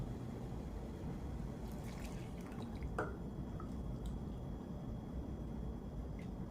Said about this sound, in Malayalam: നല്ല മിൽക്ക് ഫ്രഷ് മിൽക്ക് ഒഴിച്ചു കൊടുക്കുക